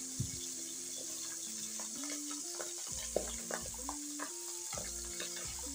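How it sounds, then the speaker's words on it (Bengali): Pabda fish fry in oil in a wok, a faint, even sizzling hiss running throughout beneath a soft melodic tune. "এপিঠ ওপিঠ উল্টে মাছগুলোকে আমি সুন্দর করে ভেজে নেব।"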